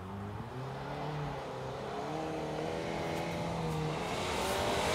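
A new Ford truck engine revs while mudding, the pitch rising and falling through gear changes in a steady loud drone that climbs toward the end, with no talk.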